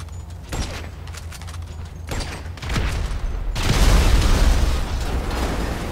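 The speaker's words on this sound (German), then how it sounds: "Explosionen." Explosions boom during a GTA 5 Online deathmatch, scattered sharp blasts and pops at first, then a louder sustained rumbling burst in the second half.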